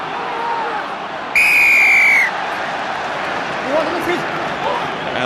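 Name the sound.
referee's whistle at a rugby match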